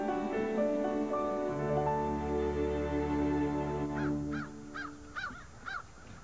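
Crows caw in a short series of harsh calls near the end, entering after a stretch of sustained tonal music and sounding moderately close.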